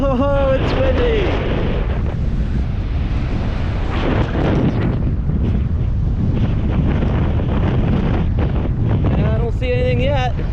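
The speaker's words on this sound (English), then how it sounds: "Oh, it's windy." Strong gusting wind at a beach batters the microphone, a loud continuous rumbling roar throughout, with faint voices briefly heard at the start and end.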